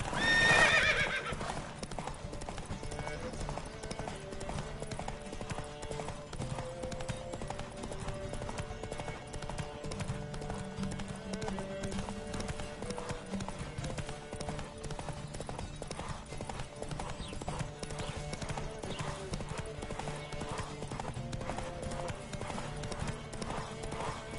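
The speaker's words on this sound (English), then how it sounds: "Don't spare the horse!" Rhythmic clip-clop of hooves runs steadily throughout under a dense musical backdrop, loud and continuous from start to finish.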